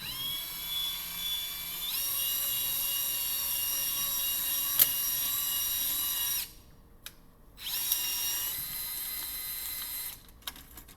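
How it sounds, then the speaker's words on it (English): Milwaukee M18 FUEL covered conductor cable stripper running as it strips a covered conductor: a high, whining cordless motor drone that holds steady, cuts out briefly, restarts, then stops near the end. "Slowly pull the trigger for 2 full rotations to complete a clean,"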